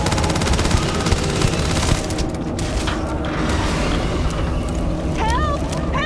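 Rapid bursts of gunfire from a limb-crippling gun in the sci-fi game Starfield during an attack at the New Atlantis spaceport, sustained and dense, with voices talking over the shooting.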